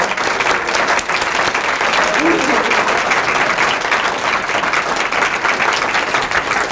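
Dense, sustained applause fills the hall at a teaching awards celebration as honorees stand, loud and even throughout without pause.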